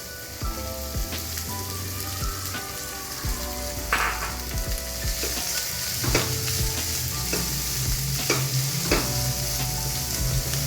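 Onions sauté in a pan with garlic for a whole moong curry, sizzling loudly and close while a spoon stirs and scrapes in repeated strokes, with no talking.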